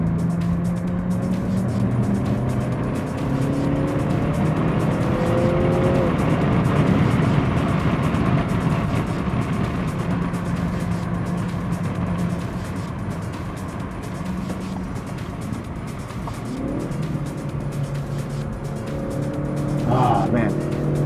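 A car engine roars and revs continuously on a lap of the Zandvoort circuit, pitch rising and falling through gear shifts, with tires and wind noise, loud and close throughout.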